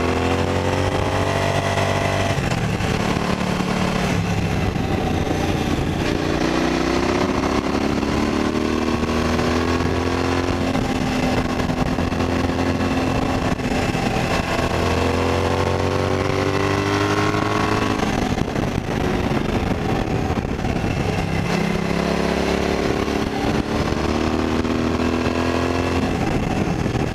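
2018 Suzuki V-Strom 1000 motorcycle with a Delkevic slip-on exhaust, loud and close, idling with a throaty thrum and repeatedly revved up and down in long swells, no talking.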